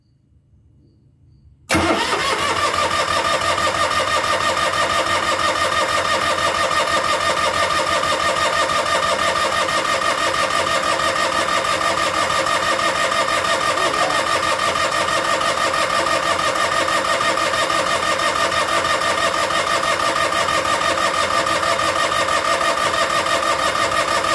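An Onan DJB diesel generator engine is cranked and catches, a sudden loud steady mechanical drone that starts after a quiet moment and runs on evenly and close for the rest of the clip.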